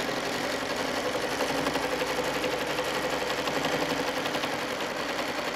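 Sewing machine doing ruler-work quilting on a large block, stitching around a 2.5 ruler: a continuous, even, rapid motor hum and needle chatter, close and loud throughout.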